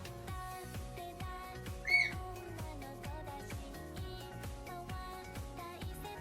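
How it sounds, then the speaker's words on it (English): A pet bird lets out a loud, sharp squawk near the two-second mark, cutting above steady rhythmic music that plays throughout. "Bird!"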